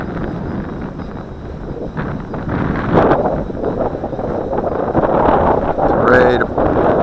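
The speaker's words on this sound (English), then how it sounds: "It's a very strong wind." Strong wind buffets the microphone during a Cheerson CX-20 drone flight, a continuous loud rushing roar with someone talking over it.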